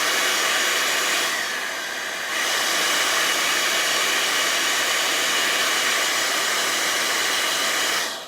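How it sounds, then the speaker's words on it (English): Hair dryer blowing to dry paint on a golf ball, a loud steady whooshing hiss close up, dipping briefly as the airflow shifts and cutting off at the end. "I'm gonna blow dry."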